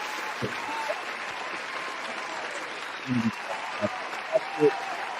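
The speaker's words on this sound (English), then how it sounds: "we give you your whole applause here" A dense patter of clapping from a gathered crowd fills the background, with a few short voice bursts and thumps close by.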